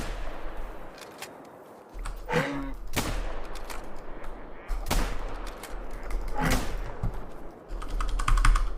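Rapid bursts of video game gunfire crackle in bursts alongside clicking computer keyboard keys, with loud shots scattered across the stretch.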